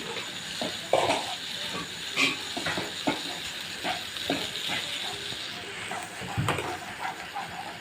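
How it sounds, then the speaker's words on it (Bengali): Egg and makhana mixture fries in a pan with a steady low sizzle, broken by occasional clicks and light taps of a utensil. "ভাজা হতে থাকবে, দেখে নিন কীভাবে ভাজছি।"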